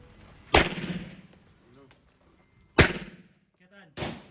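Three sharp gunshots, two loud and close with echoing tails and a fainter third, separated by quiet gaps in which brief speech is heard.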